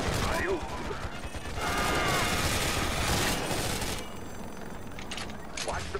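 Rapid helicopter gunfire in the Xbox 360 game Choplifter HD, a dense, continuous rattle of shots over a loud engine drone, easing after about four seconds before brief bursts return.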